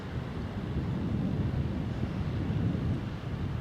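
Steady coastal breeze buffeting the microphone near the shore, with a wind farm on the hill; a continuous low rumbling roar holds at even loudness throughout, with no voices.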